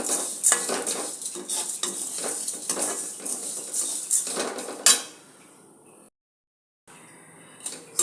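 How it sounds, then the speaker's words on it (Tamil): A spoon scrapes and stirs half a cup of chana dal dry-roasting in a pan, with busy close clattering and scraping that stops abruptly, followed by near silence and a few faint taps. "கடலப்பருப்பு இதை நல்லா சவக்க வறுத்து எடுத்துக்கலாம்"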